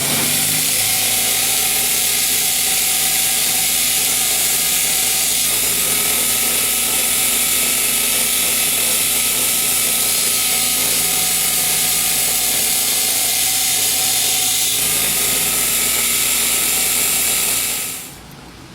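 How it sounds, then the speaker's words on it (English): Steady, continuous grinding of a bevel onto a brake shoe, loud and close with a rough mechanical whir that holds evenly before stopping at the end. "So I'm going to grind this down, put a slight bevel on it"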